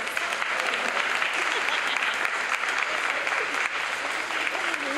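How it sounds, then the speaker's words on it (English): A large audience at a National Council of Negro Women Chicago Midwest Section event bursts into steady, dense applause honoring a justice, sustained and loud throughout with a faint voice or two mixed in. "Let's give her a great round of applause."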